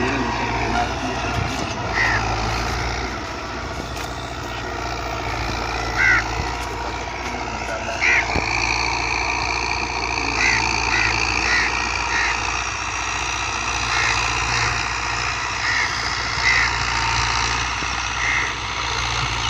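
A loud 640 tractor engine drones steadily while ploughing, a heavy low rumble with occasional high beeps or chirps over the top.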